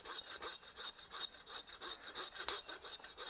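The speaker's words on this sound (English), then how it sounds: "You can do this all at home with your normal meat saw. You don't need just slowly go down because you don't want to cut into the eye fillet." A meat saw cuts slowly through the bone of a large Wagyu T-bone. Even back-and-forth rasping strokes repeat roughly every third of a second, quiet and close, with no talking.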